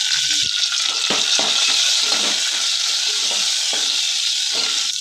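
Cumin, mustard seeds, curry leaves and garlic crackle and sizzle loudly in hot oil for a North Karnataka vegetarian thali, a dense continuous fry with scattered pops and stirring scrapes close to the pan.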